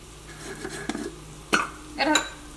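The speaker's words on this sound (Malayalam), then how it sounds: "ഇതെല്ലാം കൂടിയിട്ട് മിക്സ് ചെയ്തിട്ട് നമുക്കൊരു മീഡിയം ഫ്ലെയിമിൽ ഒരു അഞ്ച് മിനിറ്റ് മൂടി വയ്ക്കാം" Curry is mixed in a pot, with soft scraping and a few clear metallic clinks of a spoon against the pot, fairly quiet and close, with no talk over it.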